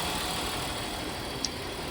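A Buick car engine idles in a lab with a steady, low mechanical hum and whir, even and close, with one brief faint tick near the end and no voices.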